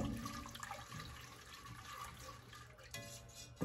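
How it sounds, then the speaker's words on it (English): Cold whole milk, about a cup, pours into a pot or bowl for mac and cheese, a soft steady liquid splash heard close and alone with no talk. "I'm going to just put about a cup of whole milk, vitamin D."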